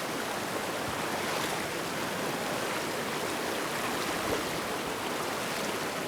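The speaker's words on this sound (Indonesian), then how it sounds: "Harus melewati aliran sungai seperti ini." A river stream in flood-damaged Sumatra flows with a steady, loud, broadband rush of water, near and constant throughout with no voices.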